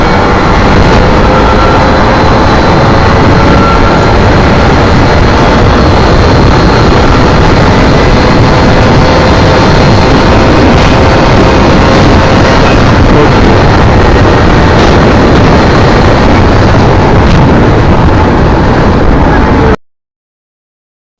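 A 1990s Yamaha RX 100 two-stroke motorcycle pulls hard through first, second and third gears, giving a loud, unbroken engine roar mixed with heavy wind noise that holds steady for about twenty seconds before cutting off.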